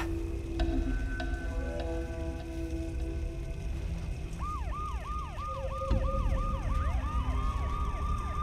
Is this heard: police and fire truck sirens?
yes